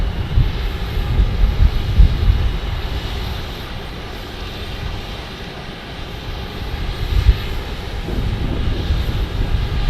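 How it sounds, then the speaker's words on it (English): A taxiing airliner at Tucson airport gives off a continuous engine roar that swells and fades as it moves across the apron, heard at moderate distance with no voices. "Because I think it's a taxiing aircraft."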